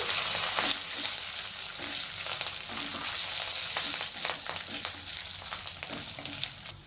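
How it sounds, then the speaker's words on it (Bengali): Browned onions and curry leaves fry in a pan while being stirred, a steady close sizzle and crackle punctuated by soft scrapes and clicks of the spatula, fairly loud and with no voices. "পেঁয়াজটা এখানে লাল হয়ে গেছে এর সাথে আমি কয়েকটা কারি পাতা দিয়ে দিচ্ছি"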